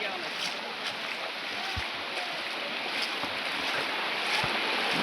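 Strong floodwater current in flooded Assam, a steady broad rushing roar that slowly builds louder, with faint voices underneath.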